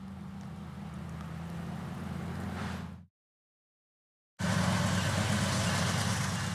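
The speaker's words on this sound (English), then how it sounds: "Over at the shop, the road power is throttled up and running. Looks like in notch 8." A train locomotive throttled up to notch 8 at the shop roars with a dense, steady engine rumble. The sound cuts out abruptly for over a second, then returns slightly louder.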